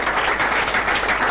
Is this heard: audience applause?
yes